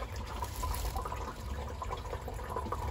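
Water draining from a koi pond barrel while the pond is shut down for winter, a faint steady trickling and gurgling close by with no voices.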